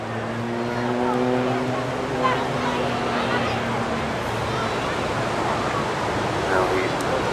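Jet engine on a Pitts S2S aerobatic biplane at an English Riviera airshow, heard as a continuous broadband roar with a falling tonal whine as the aircraft passes overhead, beneath public-address commentary.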